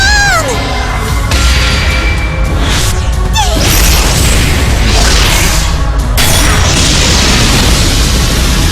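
A magic wind spell blasts off in an animated fantasy cartoon, a loud dense whooshing burst with booming impact and rushing gusts that fill the whole clip, accompanied by swelling effects and music.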